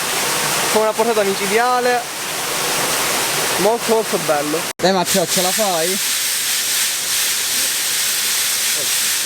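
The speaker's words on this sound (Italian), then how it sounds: "sentite tutto questo rumore proprio per l'acqua che sta scorrendo sotto" Water rushing with heavy force beneath a watermill in Novara di Sicilia, a loud continuous hiss and roar, with people talking over it.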